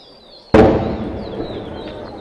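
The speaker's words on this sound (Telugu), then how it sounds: "ఈ బాంబుల మోత వినిపిస్తుంది అనుకుంటాను మీకు" One sharp, loud blast from shelling near the Jammu border along the India–Pakistan frontier bursts out abruptly, then rumbles and decays over the next couple of seconds.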